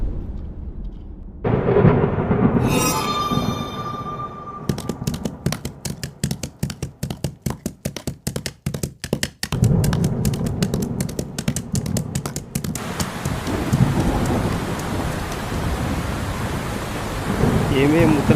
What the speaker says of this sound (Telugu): వర్షం పడుతుంది, ఇల్లు మొత్తం కారుతుందయ్యా